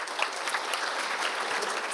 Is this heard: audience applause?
yes